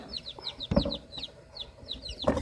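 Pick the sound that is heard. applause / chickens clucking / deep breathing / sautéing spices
chickens clucking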